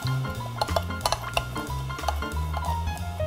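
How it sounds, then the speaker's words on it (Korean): A spoon stirring salt into water in a container to make brine for storing oysters, giving repeated clinks and scrapes against the sides in a quick, irregular rhythm, close and clear with no voices. "우선 물에 소금을 타주시고요"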